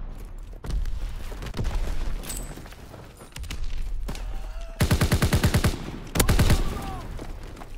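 Call of Duty: WWII multiplayer gunfire, scattered shots and booms giving way to two loud, rapid automatic bursts, close and intense, with faint voices in the background.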